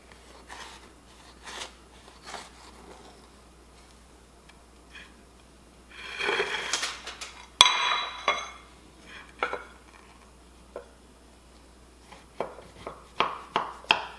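A knife cutting a slice of frosted jam quick bread, with quiet scrapes and clinks of the knife and plate, then a louder burst of sawing and tapping midway, close and without talk.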